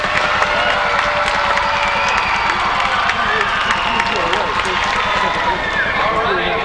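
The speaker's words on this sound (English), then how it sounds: "Let's see if you can fill this theater with a little bit of noise." Large theatre crowd in Washington DC cheering, shouting and clapping when prompted during a dolphin show, a loud continuous roar of many voices with scattered claps and children's shrieks throughout.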